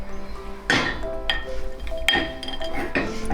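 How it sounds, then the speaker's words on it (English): A spoon clinks against a dish while melted chocolate is stirred for no-bake Cheerios candy; a few sharp metallic taps land at irregular intervals, close and fairly loud, with a low background hum between them. "we're gonna stop for a second to stir up our chocolate"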